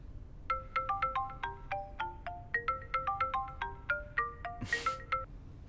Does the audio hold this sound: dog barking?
no